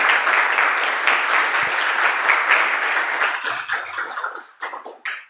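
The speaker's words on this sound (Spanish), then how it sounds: "Aplausos, por favor." Audience applause at the close of a lecture fills the room, steady and full for several seconds before thinning into scattered, fading claps.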